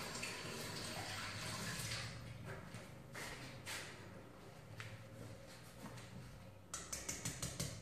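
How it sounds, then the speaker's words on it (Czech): Tap water running steadily as hands are rinsed in a home kitchen while an apple cake is prepared, a close, continuous splashing rush with small shifts in flow and no talking. "Já si opláchnu ruce a můžeme potřít náplní."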